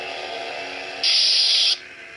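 A Mace Windu Force FX toy lightsaber, 2005 Revenge of the Sith version, hums steadily, then flares into a brighter, louder buzzing tone for under a second before settling back to the hum.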